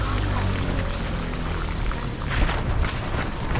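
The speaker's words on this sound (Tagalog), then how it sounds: "Yung tubig yan, dito nanggagaling sa labas, pasok dito sa amin." River water at high tide pours in from outside through a drain near the Batis Panginay river, a steady close rush and splash that runs the whole time with no talk over it.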